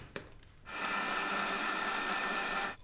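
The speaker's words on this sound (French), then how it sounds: "Dans un mixeur, je mets le lait et les pistaches. Je mixe l'ensemble pour obtenir un mélange bien vert." An electric blender whirs steadily at high speed, mixing milk and pistachios, starting after a brief click and running loud and even for about two seconds before cutting off.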